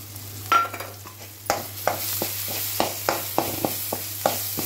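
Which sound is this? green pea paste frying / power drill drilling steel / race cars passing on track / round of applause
green pea paste frying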